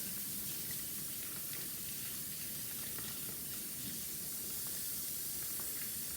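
Cornflake-coated saffron risotto balls fry in a pan with a steady, dense hiss and sizzle that holds unbroken throughout, close and even, with no voices.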